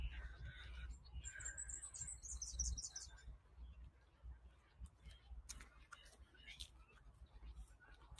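Birds chirp and squawk intermittently at Long Reef Headland, fairly distant, over a steady low outdoor rumble, with a cluster of calls early on and scattered ones later.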